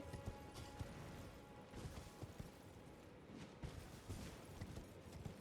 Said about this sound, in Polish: Siadamy na konia.